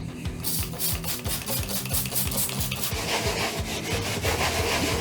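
Scrubbing the front grille of a dirty Marshall guitar speaker cabinet, a steady rhythmic rubbing and brushing with repeated strokes, close and fairly loud, with no talking.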